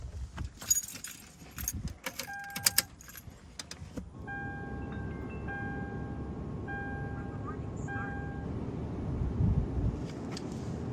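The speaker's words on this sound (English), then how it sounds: "Now we're going to turn the ignition on" Keys jangle and click into the ignition of a 2010–2017 Toyota Tundra, then a steady chime tone pulses while the electrical system comes on, close and without talking.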